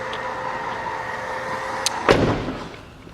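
Power tailgate on a 2012 BMW X5 35d xDrive closing after a button press: a steady motor whine, a brief click, then a single solid thud as the hatch latches shut, close by, no talking.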